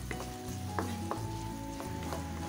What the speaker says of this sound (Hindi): अब मैंने चिकन में गाजर डाल दिया है, और गाजर को सिर्फ 1 या 2 मिनट के लिए इसको पकाएंगे